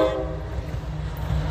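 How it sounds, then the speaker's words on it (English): A northbound freight train of auto racks sounds a brief horn blast at the start, followed by a steady low rumble of rolling railcars. "He's honking at us"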